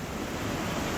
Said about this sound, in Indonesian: Banjir bandang kembali menerjang lokasi wisata Guci di Kabupaten Tegal, Jawa Tengah pada Sabtu pagi.